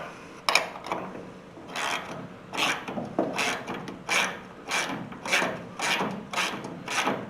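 Locking nuts being tightened onto studs during a 1973 Chevy C10 squarebody restoration, a series of about ten close, evenly spaced ratcheting rasps with brief gaps between strokes.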